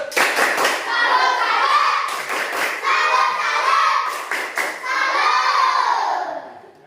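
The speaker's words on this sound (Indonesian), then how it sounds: "boleh tepuk salut, silakan tepuk salut dulu." Students in a classroom do a rhythmic salute clap (tepuk salut), loud clustered bursts of patterned hand claps and thumps alternating with children shouting and chanting along.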